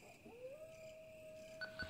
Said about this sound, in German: Und wir hören schon Hunde.